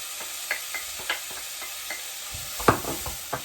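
Chopped garlic frying with onions in a pan, a soft sizzle under scattered stirring clicks and scrapes, one louder knock near the end.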